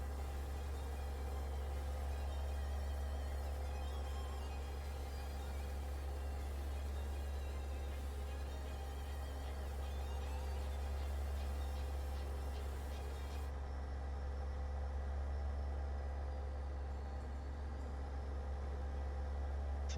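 A heavy truck engine in a trucking simulator drones at a constant, loud, low roar for the whole stretch, with a faint high whine on top and no talking.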